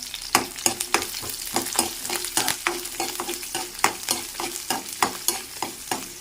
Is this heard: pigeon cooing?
no